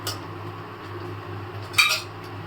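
A vegetable and lentil mix goes into a cooking pan with a light metallic clink at the start and a louder scraping clatter near the end, over a low, steady background hum.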